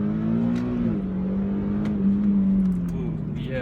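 A 2014 Infiniti Q50 Sport AWD with stock exhaust accelerates hard, its engine drone steady and loud with a rising then falling pitch, heard from inside the car.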